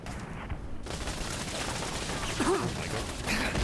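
Turret gunfire in the video game Fallout: London, a steady mechanical clatter of rapid shots that runs through the clip at moderate loudness, with a faint voice underneath.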